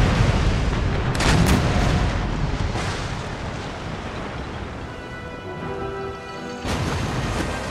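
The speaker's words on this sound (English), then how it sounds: "The roar of cannons could be heard from miles away" Cannon fire during a naval battle in Empire: Total War, booming broadband blasts in a continuous, rumbling barrage, loud and layered, with a few sharper reports and crackling debris between the heavier volleys.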